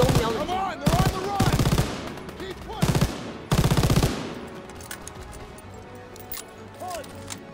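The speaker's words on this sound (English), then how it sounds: "我这个 MG 就不用瞄准 了。" An MG machine gun fired by the player in Call of Duty: WWII, loud close bursts of rapid fire in several clusters over the first four seconds, then quieter background battle noise with occasional voices.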